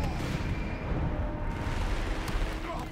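A Bofors anti-aircraft gun pounds away in the North Africa campaign of Company of Heroes 3, a dense, loud barrage of booming shots and blasts that fills the battle without letting up.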